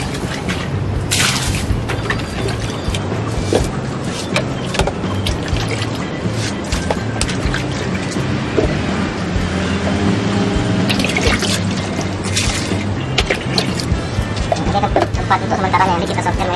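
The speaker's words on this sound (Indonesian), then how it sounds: "Ini airnya kita isi dulu untuk nampung ikan sementara." Water pours steadily into a container being filled to hold betta fish, a loud continuous splashing and gurgling rush that never lets up, with a voice talking over it.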